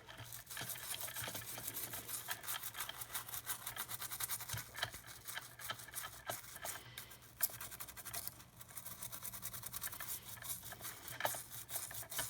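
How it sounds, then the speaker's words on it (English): A toothbrush dipped in isopropyl alcohol scrubs a circuit board from a Yobo FC16 Go SNES handheld, giving a steady close bristly scratching that runs continuously with quick back-and-forth strokes and no talking. "I'm gonna try and clean that up a little bit, just with some isopropyl alcohol and a toothbrush"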